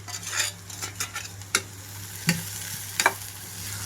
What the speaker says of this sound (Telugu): ఇప్పుడు ఉడికించి పెట్టుకున్న గోర్చిక్కుడికాయ ముక్కలన్నీ ఇందులోకి వేసేస్తున్నాను